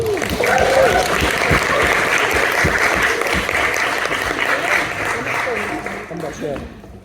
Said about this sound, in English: please welcome to the stage, big round of applause for our first act